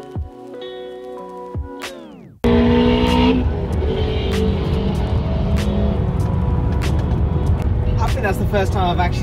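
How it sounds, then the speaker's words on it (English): After a quieter opening, a Toyota GT86's engine suddenly roars at full throttle, loud and close, revving hard and climbing in pitch. "That's the first time I've actually seen a GT86 get floored."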